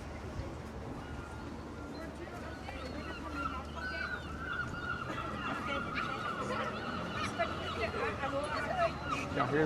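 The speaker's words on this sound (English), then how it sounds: "Y'all hear those seagulls?" Seagulls call repeatedly across Oban harbor, their loud cries rising over steady wind and low water-vehicle rumble while people talk nearby.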